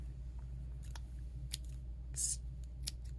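A few quick, sharp snips of scissors cutting yarn while crocheting, spaced irregularly over a low steady hum, close by and fairly quiet.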